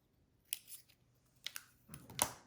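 Scissors snip through a craft egg in a few quiet, separate cuts, close up with no talking.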